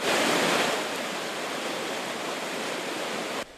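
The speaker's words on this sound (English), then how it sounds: "The water was raging today at Moats Falls in Arden." Raging water roars over Moats Falls in Arden, a dense, loud, continuous rushing wash heard close up and alone, cutting off abruptly at the end.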